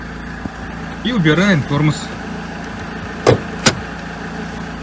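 A SsangYong Kyron 2.0 diesel SUV sits with its engine running at a steady low idle after ignition, with someone talking briefly over it, a short beep-like tone and a couple of sharp clunks.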